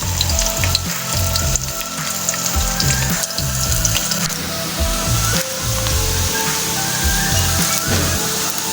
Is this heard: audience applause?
no